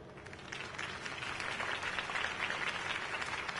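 A steady wash of crowd applause in the video game Batman: The Telltale Series, many hands clapping continuously at a moderate distance, holding level throughout.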